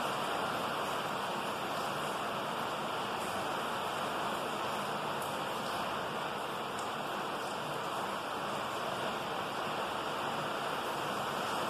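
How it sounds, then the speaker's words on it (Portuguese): Steady, dense rain pours onto the ground, a roof and walls, a continuous even hiss with no pauses or voices, close and enveloping throughout. "Perceba a água batendo no chão, no telhado, nas paredes."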